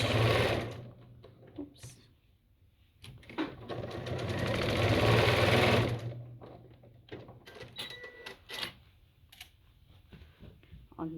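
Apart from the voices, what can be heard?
sewing machine back stitching a fabric basket seam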